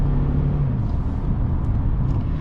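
A 2016 Mercedes-Benz C300 4MATIC engine running in Sport Plus mode gives a steady, loud low rumble heard from inside the car, holding a constant drone with no talking.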